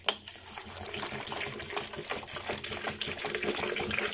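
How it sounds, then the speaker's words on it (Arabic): Water being poured into a herbal juice, a continuous splashing gush close up that keeps running steadily from start to finish, with no speech. "اخر ما غادي نضيفوه لهذا العصير هذا هو الماء، لتر ونصف من"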